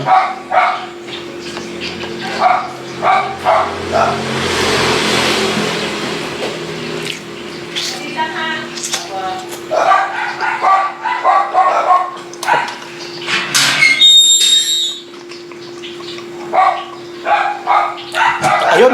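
A dog barks in scattered bursts, some close and sharp, mixed with running water and background noise.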